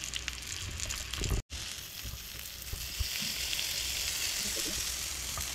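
Mackerel coated in rava semolina fries in a pan over low gas, giving a steady, close sizzle and crackle broken by one very brief drop-out, with no voices.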